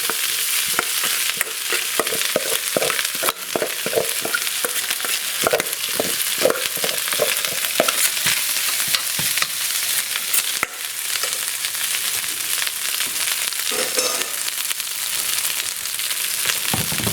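Cooked rice frying in oil in a wok: a continuous crackling sizzle with rhythmic scraping and tossing strokes in the first half, then a steadier fry.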